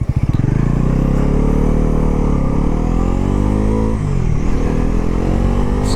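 A 2025 Bajaj Pulsar NS400Z motorcycle pulls away in first gear, its loud, close engine climbing steadily in pitch, dipping briefly near the middle before building again.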